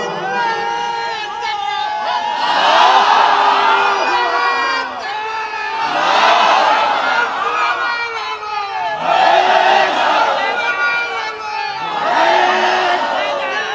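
A large outdoor crowd at a religious gathering shouting takbir, Allahu Akbar, in unison, with loud swelling chants repeated four times in a steady call-and-response rhythm.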